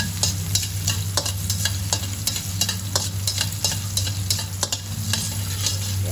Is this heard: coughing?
no